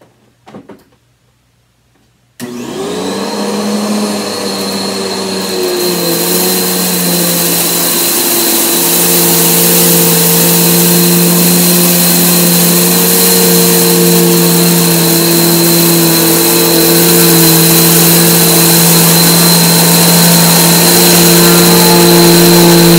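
Bernina 6100 vacuum cleaner switching on after a brief quiet moment and running steadily, its motor whine loud and constant as it sucks up rice from the floor, with a sustained high tone and faint rattling.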